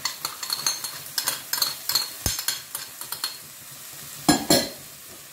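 Onion and leek sizzle in oil in a frying pan while a utensil stirs, giving soft frying crackle with irregular scraping and clinking taps against the pan, close and without talk.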